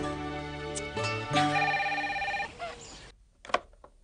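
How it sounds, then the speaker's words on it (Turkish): A telephone rings in a Turkish household drama scene, a bright electronic bell tone repeating in short bursts before cutting off, fairly clear and close, followed by a brief faint sound after. "Baba, Mahmut telefonda."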